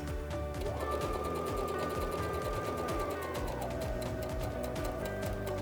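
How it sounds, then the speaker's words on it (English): A sewing machine stitching a diagonal line across an apron tie, running in a fast steady mechanical whir with rapid needle ticks, close and loud throughout. "And we'll just sew down that diagonal."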